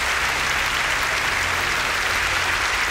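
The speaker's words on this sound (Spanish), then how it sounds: "aplausos para Jesús" An audience at a religious faith show applauding for a guest: dense, sustained clapping from many hands, loud and even throughout.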